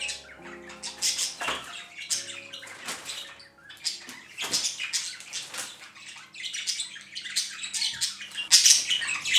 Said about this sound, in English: Please be aware that my birds are very loud in the next few minutes.